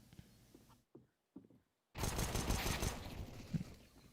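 Gunfire in a shooter video game: a few sharp isolated shots, a brief silence, then a dense, loud burst of rapid firing that continues to the end.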